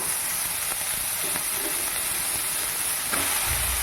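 Shredded cabbage dropped into a hot pan for mixed vegetable paratha filling, giving a steady, loud, close hiss and sizzle that holds without pause and no talking over it.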